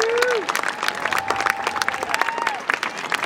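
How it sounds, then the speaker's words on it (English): An audience claps in a school hall at a winter concert performance, a dense steady patter of applause lasting the whole stretch while a sustained sung or instrumental note glides above it. "One more round of applause."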